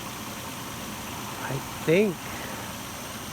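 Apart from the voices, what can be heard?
2004 Nissan Frontier engine idling after rotor and cap replacement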